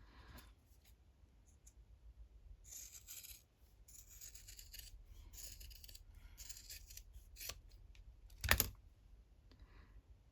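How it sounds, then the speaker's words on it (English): Scissors cut through a piece of linen fabric in soft, close snips and slices, with one sharper click near the end, quiet and without talk. "Let me just cut out the linen."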